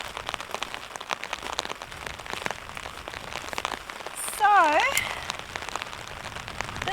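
Heavy rain patters densely and steadily on surfaces at a mountaintop campsite, close and continuous, with a brief voice and a short wavering tonal sound partway through.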